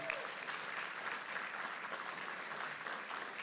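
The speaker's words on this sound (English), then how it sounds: "So would you just give a round of applause to everybody?" A church congregation applauds during a Sunday service, a dense, even wash of many hands clapping that stays faint and distant for three and a half seconds without pause.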